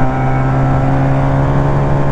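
A 125cc two-cylinder chopper motorcycle engine runs with a steady, close, humming drone, holding an even pitch throughout rather than climbing or falling.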